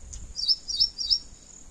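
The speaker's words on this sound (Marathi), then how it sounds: "पाखरांचा आवाज" Birds chirp over farm fields newly sown with soybean in cool, cloudy weather; three quick, high, bright chirp bursts come in steady succession at moderate distance over a quiet outdoor background.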